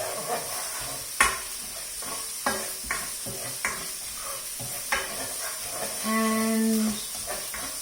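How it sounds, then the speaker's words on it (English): Onions and a Gujarati tempering (vagar) sizzle and fry in a pan for vegetable khichdi, with soft intermittent stirring scrapes and clinks over a steady hiss and a short tonal squeak near the end. "Mix that in well with the onions."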